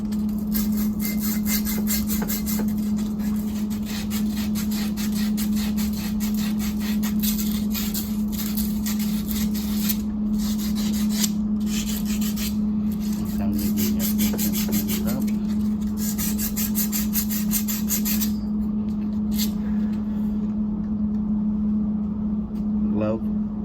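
Sandpaper rubbed back and forth over copper pipe before soldering gives a steady close-up rasping scrape throughout, over a constant low hum, and stops near the end.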